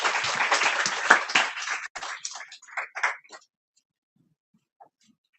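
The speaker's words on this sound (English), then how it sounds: "So please give her a round of applause." Applause from an audience at a patient empowerment summit in Washington DC, a burst of clapping that thins out and fades to silence within about three seconds.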